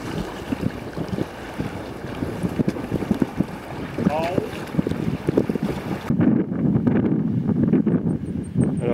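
Strong wind buffets the microphone in a constant roar on a canoe trip on the Rivière aux Feuilles in Nunavik, Québec, with faint voices underneath and a brief squeaky sound partway through.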